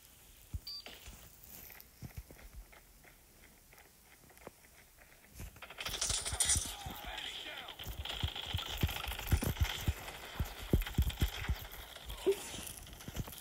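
Gunfire in a Call of Duty match: sharp repeated shots, sparse at first and then a denser, louder stretch of firing over crackling game noise.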